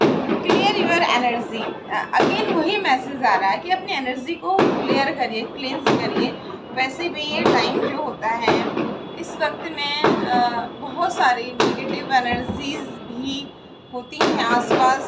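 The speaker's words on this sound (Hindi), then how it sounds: "आपको आवाज़ सुनाई दे रही है, अच्छी बात है पटाखे चलाना" Firecrackers burst outdoors during a festive night, with sharp scattered bangs repeating throughout under a voice that keeps talking.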